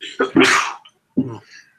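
One sharp human sneeze bursts out close to the mic, followed by a short spoken word after a brief pause.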